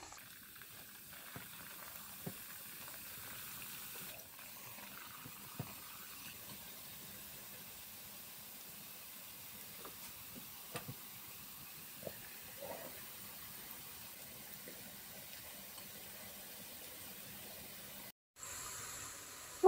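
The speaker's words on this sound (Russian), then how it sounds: "Вот так они раскрываются в масле, будут хрустящие, слоеные." Small twisted pieces of brine dough frying in a pot of hot oil, a steady soft boiling hiss with faint crackles and pops throughout, close by and fairly quiet, with no talking.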